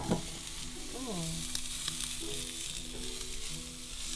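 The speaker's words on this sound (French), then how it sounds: "Je vais faire fondre du beurre." Butter melting and sizzling on a barbecue grill set up for cooking beef rib and aged sirloin, a steady soft frying hiss with faint stirring, while a few tonal background sounds drift in.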